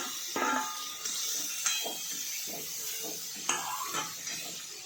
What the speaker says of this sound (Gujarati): હવે તેને આપણે થોડા ફ્રાય કરવાના છે આ રીતે બટરમાં થોડા બ્રાઉન રંગના થાય ત્યાં સુધી